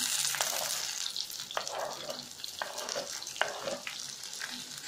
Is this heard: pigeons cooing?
no